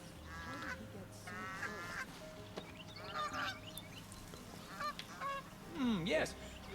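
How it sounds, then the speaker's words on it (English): A goose in a video game honks several times in a row, nasal calls standing out over a steady background ambience, moderately close with a low murmur beneath. "I know that I can just barely hear a goose."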